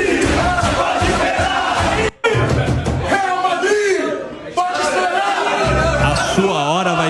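Flamengo football supporters chant together in the stands, a loud, sustained crowd roar with rising and falling voices that drops out briefly, then swells back.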